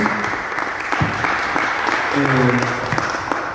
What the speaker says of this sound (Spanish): Un aplauso, por favor, para Gabriel en su trabajo en la Escuela Laura Mato.